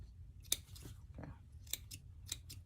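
Small scissors nip fabric while sewing, giving a few quick, crisp snips close by at a soft level over a quiet background.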